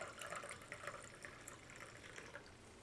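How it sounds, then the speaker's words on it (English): Water is poured into AeroPress coffee to make an Americano, a faint, steady liquid trickle and splash lasting a few seconds with no talking. "That means I put water in there."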